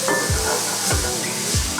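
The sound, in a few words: spices frying in a pan for shepherd's pie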